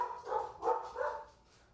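Several dogs bark indoors in three quick bursts, fairly close and moderately loud, with the last bark trailing off into quiet.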